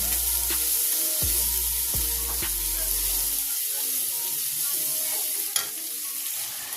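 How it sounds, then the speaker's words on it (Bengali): Chopped onions frying in a pan until reddish brown for a sea crab curry, a steady close sizzle with stirring scrapes and a few sharp utensil knocks throughout. "পেঁয়াজটা লাল লাল করে ভেজে নিচ্ছি।"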